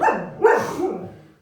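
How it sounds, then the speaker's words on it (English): A dog in a home gives two quick, close barks, the second a bit longer and trailing off, heard on its own with no talk. "That's just my dog kicking off."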